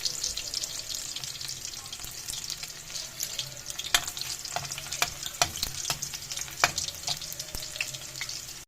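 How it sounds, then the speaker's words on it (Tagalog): Garlic frying in a hot wok for pancit bato, a continuous close crackling sizzle broken by sharp scraping and stirring clinks of a utensil against the pan. "Minit na kawali. Lagay ng bawang."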